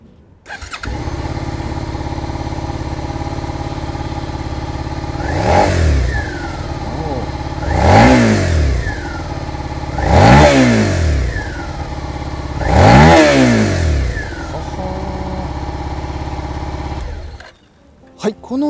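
Suzuki SV650X 650cc V-twin motorcycle engine idling, then blipped four times in quick succession, each rev climbing sharply and falling back to a steady idle, loud and close, with no talk.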